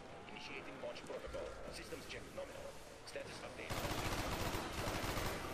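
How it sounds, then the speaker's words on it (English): Rapid gunfire in Call of Duty Black Ops, bursts of shots under ongoing game chatter and voices, growing louder and denser toward the end. "Now we have to launch the missile and then shoot it a bunch."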